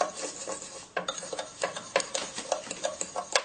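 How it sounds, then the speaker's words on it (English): A fork mixes sugar and water in a bowl, making quick, light clinking and scraping taps in an uneven rhythm, close and fairly quiet, with no talking. "get a fork and just mix it all together"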